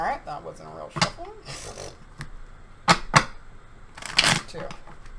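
Tarot cards being shuffled in quick riffling bursts and sharp snaps, with a voice talking in between.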